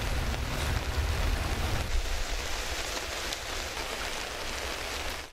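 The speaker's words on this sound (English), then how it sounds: "several areas of the Colombo district continue to experience heavy rainfall" Heavy rain pours down steadily during flooding in the Colombo district, a dense, loud wash of falling water that stays continuous throughout, with a deeper rumble at the start.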